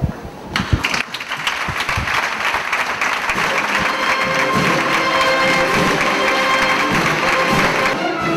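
An audience at a town festival queen presentation in Nules breaks into applause, a few scattered claps swelling into steady, sustained clapping that grows louder and fuller.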